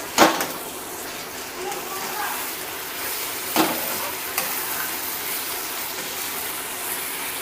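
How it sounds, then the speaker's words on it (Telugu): Soaked chicken pieces for kaju chicken curry hit a hot pan with a sharp sizzle, then fry in a steady, loud hiss, with two more stirring bursts partway through. "చికెన్ వేసి బాగా కలిపెట్టాలి."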